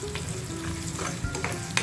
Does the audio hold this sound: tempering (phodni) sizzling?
yes